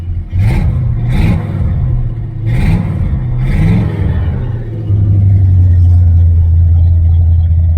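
A 1978 Chevrolet Nova hot rod with a V8 and dual exhaust revs hard up close in several sharp bursts, then settles into a loud, deep, rumbling idle.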